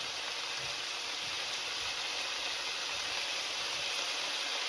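Saltfish frying in a pan for a Jamaican saltfish dish, giving a steady, even hiss and sizzle that holds without a break, with no voices.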